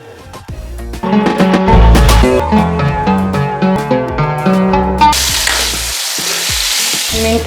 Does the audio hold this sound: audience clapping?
no